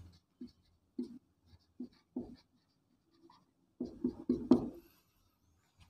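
Pen or chalk writing out the reason line of a geometry theorem proof, a series of short scratchy strokes in separate bursts, with a denser flurry of strokes near the end, close and fairly quiet with no talk.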